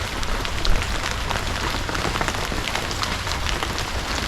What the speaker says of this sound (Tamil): இப்போது இந்த மாதிரி மழை அடிக்கும் பொழுது